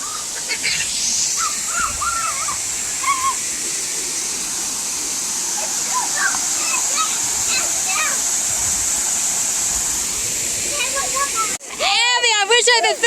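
A waterfall on a Hudson Valley hiking trail roars as a steady, broad wash of falling water, constant and fairly close, with faint bird calls over it and a brief burst of noise near the end.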